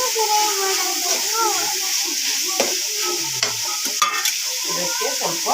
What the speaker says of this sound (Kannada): ಇವಾಗ ಸ್ವಲ್ಪ ಟೊಮೊಟೊ ಹಾಕಬೇಕು. ಚೆನ್ನಾಗಿ ಹುರಿಯಬೇಕು. ಚೆನ್ನಾಗಿ ಫ್ರೈ ಮಾಡಬೇಕು.